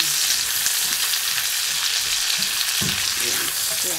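Onion frying in a pan for a bitter melon and kidney bean dish, with a loud, continuous sizzle and occasional utensil scrapes as it is stirred.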